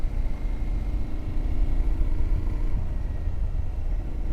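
A 2025 Aprilia Tuareg 660 motorcycle engine pulls steadily in third gear, a loud, continuous low drone with wind rush and no pauses, dipping slightly near the end.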